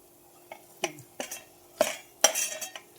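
Khoa (milk solids) being stirred while roasting in a pan for sweet kheer, with a spoon scraping and clinking against the metal in irregular strokes, about half a dozen distinct scrapes close by with no voices.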